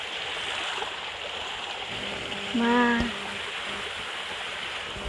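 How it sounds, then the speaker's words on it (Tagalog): A small, cold stream flows steadily with a soft continuous rush of water, faint and even throughout, with a brief tonal sound rising partway through. "Maliit lang na sapa pero malamig ang tubig."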